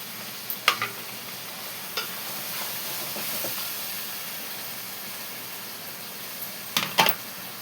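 Cashew paste fries in a pan with a soft, steady sizzle, while a spoon scrapes and taps against the pan a few times near the start and end.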